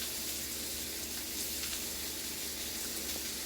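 Steak cooking in a pan, a continuous hissing sizzle at moderate level with a steady crackle and no voices.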